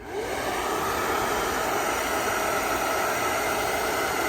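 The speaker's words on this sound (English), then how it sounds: "take our handy dandy hairdryer that we stole from our wives and sink it in" A hair dryer blows steadily at close range, heating wax into canvas, a continuous loud whooshing hiss that holds even from start to finish.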